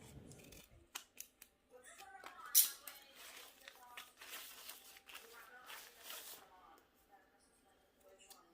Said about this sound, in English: I decided to cut the tape the shorter way, only because it would be easier to work with.